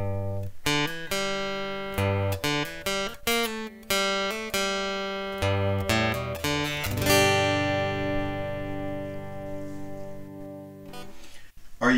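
A Yamaha SLG200S silent guitar played through its pickup, a run of plucked notes and strummed chords that ends in a ringing sustained chord, clear and close.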